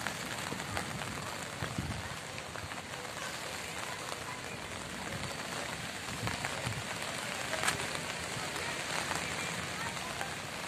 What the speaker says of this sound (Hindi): बारिश है।